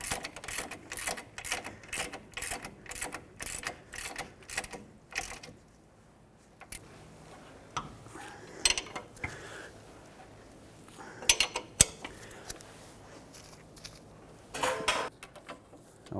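Repeated metallic ratcheting clicks from a wrench torquing the backing plate bolts on a 2003-2021 Chevrolet Express 3500 van, in quick close bursts for several seconds, then a pause with scattered clanks and a few more short ratchet runs.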